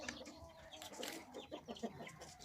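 Chickens clucking softly as they eat from their feeding bowls, a red rooster and a white hen among them, short low clucks in an irregular patter, fairly faint and close by.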